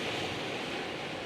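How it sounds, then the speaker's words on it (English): Huge ocean waves pound the southern Australian coast, a steady wash of surf and wind noise heard alone for a moment. "The waves are huge and it's gorgeous"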